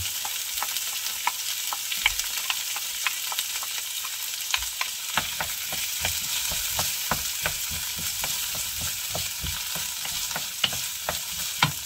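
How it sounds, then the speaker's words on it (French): Garlic and onion frying in hot olive oil for a homemade ratatouille, a continuous crackling sizzle with frequent sharp pops and spatula stirring sounds close by, no voices. "je mets juste un tout petit morceau d'oignon pour voir si l'huile est assez chaude"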